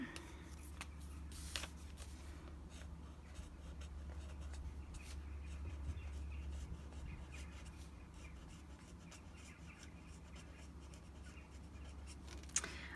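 Soft, faint scratching of a pen moving across paper in a bullet journal, with quiet strokes and occasional light taps over a low background hum.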